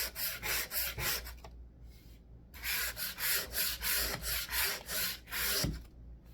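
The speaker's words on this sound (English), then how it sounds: "run your sander along the edge" A sander rubbing along the edges of a repaired drywall crack, in quick back-and-forth strokes in steady rhythm, close and loud, with a couple of short pauses.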